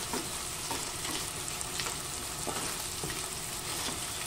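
Garlic frying in a pan, a steady close sizzle with faint stirring ticks running throughout, no voices.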